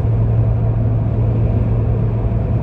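A 2020 Toyota Tundra with the 5.7-liter V8 drives along, heard from inside the cabin as a constant low engine and road rumble, steady and fairly loud.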